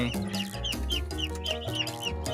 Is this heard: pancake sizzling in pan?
no